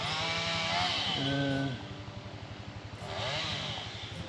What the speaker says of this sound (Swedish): Jag gör ett instick. Sågar mig bakåt.